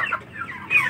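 White broiler chickens cluck inside a poultry room, a brief burst of overlapping clucks and calls from several birds close by.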